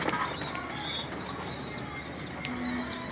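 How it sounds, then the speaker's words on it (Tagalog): Racing pigeons at a loft, with soft cooing and chirping calls scattered over a constant outdoor hiss, the birds fairly close but faint beneath the background noise. "Ay, mga ibon natin mga kalapatids."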